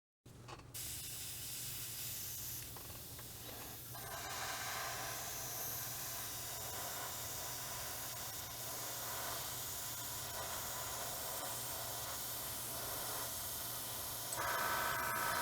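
An airbrush sprays a light coat of Vallejo interior green paint, a steady soft hiss over a low hum that continues for about fifteen seconds without speech.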